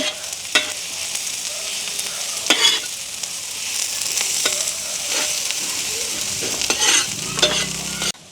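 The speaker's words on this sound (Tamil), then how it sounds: "இப்போ அப்படியே கலந்து விடுவோம்" Leek, cabbage and carrot are stir-fried in a pan for village-style kottu, giving a continuous close sizzle broken by repeated scraping stirs of a utensil against the pan.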